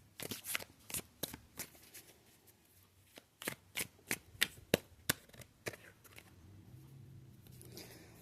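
A tarot card deck being shuffled nearby, a run of crisp riffling snaps and soft card slaps coming in uneven bursts with short pauses between, with no talking.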